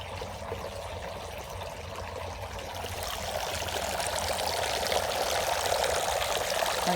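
Water leaking and trickling in a back yard, a steady close stream of running, splashing water that grows slightly louder and fuller partway through, with no talking.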